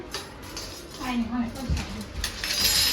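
Plates and cutlery clinking as dishes are laid out for a shared meal at a home religious gathering, light clatter and clinks close by, with voices talking in the background.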